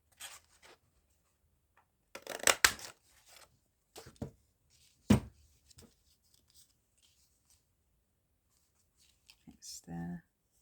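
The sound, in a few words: scissors cutting textured blue cardstock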